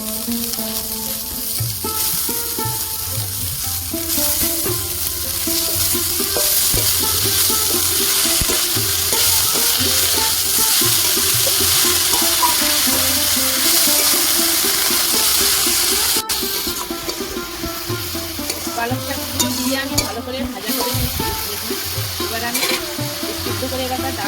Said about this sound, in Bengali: জিরে দেবো জিরে গুঁড়ো এবার আমি পালং শাকগুলো দিয়ে দেবো